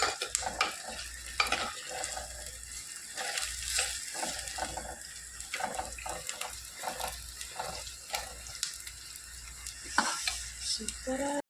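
Garlic paste and curry leaves fry in oil in a clay pot, a steady close sizzle broken by repeated scraping and stirring knocks, with no talk over it.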